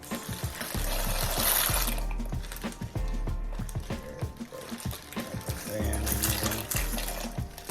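Dry elbow macaroni is tipped from a bag into a pot of boiling water, giving a spill of splashing and clattering bursts over a steady bubbling boil, heard close and fairly loud.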